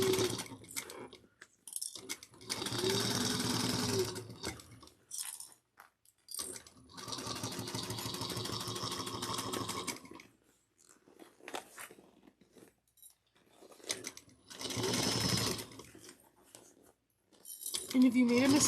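A home sewing machine stitching a handheld fabric bag runs in several bursts of rapid mechanical whirring, each lasting a few seconds. Quiet pauses separate them, filled with small handling noises and soft speech.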